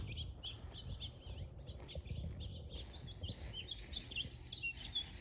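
Sparrows chirp repeatedly at a distance, a busy scatter of faint tweets over a low outdoor rumble, in Canada.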